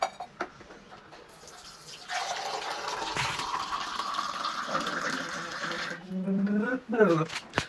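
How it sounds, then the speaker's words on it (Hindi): Water poured into a glass to mix a vegan protein shake, a steady splashing fill lasting several seconds, with a person talking before and after it. "बट देखो अभी इसमें पानी डालेंगे हम, ठीक है, पानी डालो"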